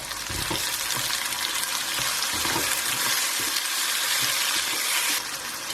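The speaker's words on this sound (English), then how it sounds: "So in goes tomatoes next." Tomatoes hit a pan of light golden-brown onions for a restaurant-style chicken handi, setting off a loud, steady close sizzle with a few soft stirring knocks underneath.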